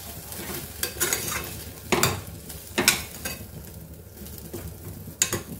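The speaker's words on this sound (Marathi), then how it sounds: "चांगले 2-3 मिनिटं हे तांदूळ परतून घ्यायचे आहेत" Rice grains stirred and roasted in a spoonful of ghee in a pan for a Marathi kheer, giving a soft close sizzle with scraping stirs and a few sharper clinks of spoon on metal.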